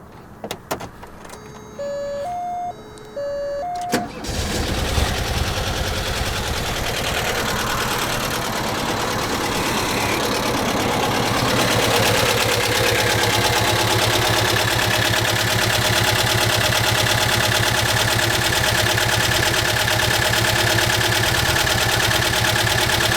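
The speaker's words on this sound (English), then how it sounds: "fire this thing up, let you hear it run" A 1987 Volkswagen Vanagon with low oil pressure, pulled from the Montana backwoods, is heard close up: a few electronic beeps, then the engine catches and settles into a steady, even running drone for the rest of the clip.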